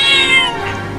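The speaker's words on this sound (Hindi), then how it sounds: "अरे ये बिल्ली तो पिंजरे में से निकलने की कोशिश कर रही है" A cat in a cage gives one drawn-out, wavering meow up close as it tries to get out, fading into a quieter tail.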